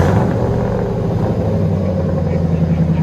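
Inside a Ford Crown Victoria with a 4.6L V8 and modified exhaust, a deep, loud idle rumble drones steadily through the cabin, low and even for a few seconds.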